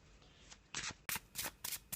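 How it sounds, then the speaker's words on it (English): A tarot deck of black and white Faulkner cards is shuffled by hand, with several quick riffling bursts in an uneven rhythm, close and fairly quiet, with no talk. "Let's just have a little shuffle."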